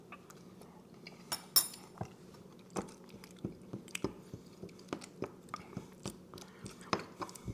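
Mouth noises of someone tasting freshly made pesto, soft wet chewing and small bites repeating irregularly close up, with faint clinks of a utensil against a bowl, no talking.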